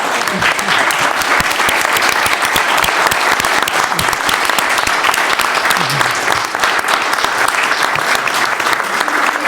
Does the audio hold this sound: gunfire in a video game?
no